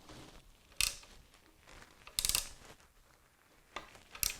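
Tightening a screw that joins two 3D printed miniature train parts: a few sharp, close ratcheting clicks and scrapes come in separate bursts, with quieter handling between them and no talking.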